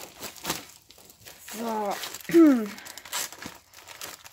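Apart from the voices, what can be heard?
shopping bag being handled, crinkling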